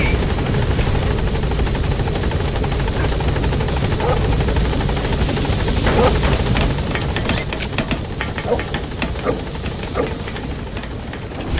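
A helicopter arriving in the video game Metal Gear Solid V: The Phantom Pain, a loud, steady rotor thrum and engine roar throughout, easing slightly toward the end, with faint radio-style speech in the mix.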